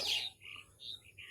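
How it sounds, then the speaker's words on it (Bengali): Small birds in a village banana grove give a few short, high chirps in quick succession, faint and slightly distant against a quiet background. "দেখেন আরো কত পাখি বসে আছে, কিচিরমিচির করে ডাকছে।"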